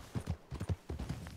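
Horse hoofbeats from Red Dead Redemption roleplay play close in a quick, uneven clip-clop rhythm of several steps, with a faint voice underneath.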